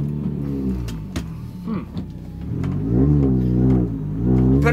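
A Mini driving on newly fitted suspension and brakes, with a steady engine drone that rises in pitch as it accelerates, and a few brief knocks and clunks over the road. No one speaks.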